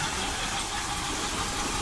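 A Trackmaster Percy toy train stuck fast with jammed wheels, its small motor whirring steadily with a rough, buzzing drone, close and continuous for a couple of seconds.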